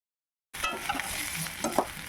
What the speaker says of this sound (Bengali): কাশ্মীরি লঙ্কার গুঁড়ো ও কাসুরি মেথি দিয়ে খুব ভালো করে আলুর সাথে মিশিয়ে নিলাম